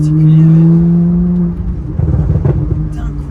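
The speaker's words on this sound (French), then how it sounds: "La manière qu'elle accélère cette voiture, c'est comme rien d'autre." A supercar accelerates hard, its engine droning loud and close and then breaking into a rougher, fluttering roar as it pulls away.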